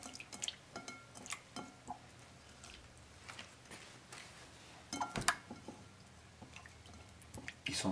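Raw squash noodles made from ayote drain in a colander with soft irregular drips and wet squishing, quiet and close, with scattered small splashes and no speech.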